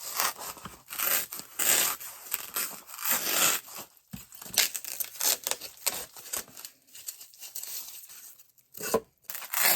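Styrofoam and craft pieces being cut and trimmed for a Christmas tin planter makeover, a dense run of close tearing, snipping and crinkling sounds in irregular bursts with brief pauses, no talking.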